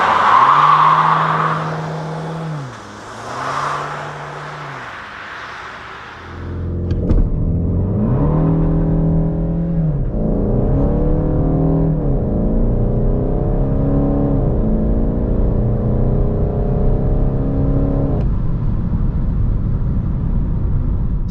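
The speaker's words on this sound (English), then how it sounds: "let's now first see how fast the car goes on the country road to 100 using the launch" A VW Golf 8 GTD diesel hatchback with 200 hp makes a launch-control start on a country road, revving at standstill before pulling hard toward 100 km/h. The engine rises loud and close through several rising gear sweeps.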